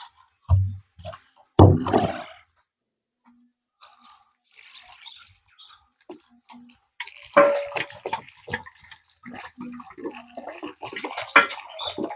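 Measured water, 18.75 liters, is poured onto dry sawdust substrate for composting, arriving in a couple of loud splashing bursts and then irregular sloshing and trickling.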